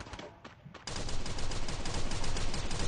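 Gunfire in the online shooter Free Fire: a few separate shots, then a dense, continuous burst of rapid automatic fire that runs to the end, loud and near, with no talk over it.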